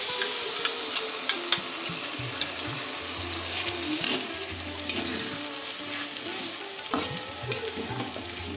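Spice paste frying in a pan on a home stove, with bay leaves added, gives a steady close sizzle broken by scraping stirring strokes and small crackling pops throughout, with no talking.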